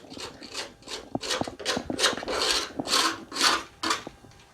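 Cutting through a rusty body panel on a 1972 MG Midget, a close, continuous harsh rasping with repeated bursts of abrasive grinding that rise and fall in strokes, with no talk.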